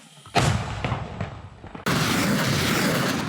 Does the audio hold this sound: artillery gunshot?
yes